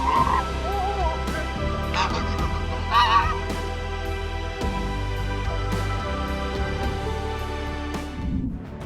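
Geese guarding an elderly woman give repeated honks and harsh calls over a steady low background rumble, several bursts clustered near the start and middle, fairly close and moderately loud.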